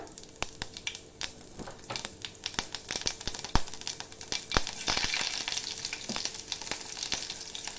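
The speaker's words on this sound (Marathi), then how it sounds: "फोडणीमध्ये राई जिरं टाकून घेऊया" Hot oil sizzles steadily while mustard seeds and cumin crackle and pop in sharp, scattered bursts, close up with no talking.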